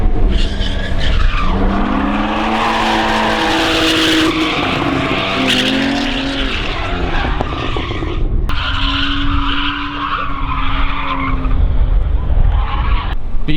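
A drifting car slides sideways at Crail, Scotland, its tires squealing in long wavering screeches over a loud, roaring engine that rises and falls, with a brief break near the middle before the skid resumes.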